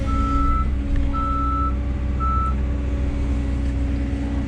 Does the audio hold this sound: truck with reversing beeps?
yes